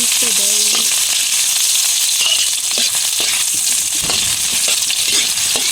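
Chopped onions sizzling in hot oil for soup, a steady close hiss filling the whole stretch, with a few light clinks and scrapes of utensils near the start and no talk.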